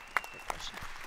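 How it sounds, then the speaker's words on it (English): An audience at a talk on 5G technology in the automotive industry gives a brief round of applause, a dense patter of many hands with a couple of sharper claps, short and moderately loud. "Please give him a round of applause for his very interesting comments."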